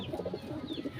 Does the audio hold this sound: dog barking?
no